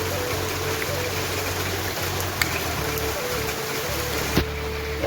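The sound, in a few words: heavy rain falling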